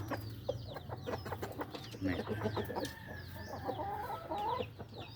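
A fighting rooster clucks in short, close bursts, joined by other birds calling around it in a farm setting, with no voices.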